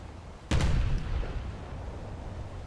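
Automatic cannons fire at the player in the War Thunder tank game: one sudden loud, close blast with a short rumbling tail, then a low lingering roar with no voices.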